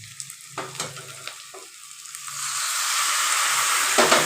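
Potatoes for aloo dum being sautéed in a pan, a few scraping stirs and then a loud, steady hiss of sizzling oil that builds and fills the rest of the clip.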